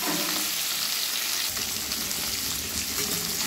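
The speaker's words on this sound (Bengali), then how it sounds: "মাছের কাঁচা গন্ধটা যাতে চলে যায় সেইভাবে অল্প অল্প করে আমি একদম অল্পই ভেজে নেব" Hilsa fish pieces fry in hot oil with a loud, close, continuous sizzle and spatter that grows a little stronger midway, with no voices.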